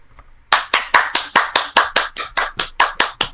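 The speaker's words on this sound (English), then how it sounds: "You gotta do the golf clap" A slow golf clap: after a near-silent half second, one person claps about thirteen times in an even, measured rhythm, each clap crisp and close.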